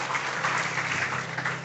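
A congregation claps loudly during an online church worship service, a thick, continuous wash of applause sustained for the whole short stretch with no voices over it.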